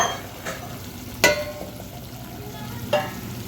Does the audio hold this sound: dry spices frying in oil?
yes